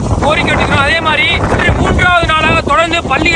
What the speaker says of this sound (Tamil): மணிக்கு தொண்ணூறு கிலோமீட்டர் வந்து புயல் காற்று வீசி கொண்டிருக்கிறது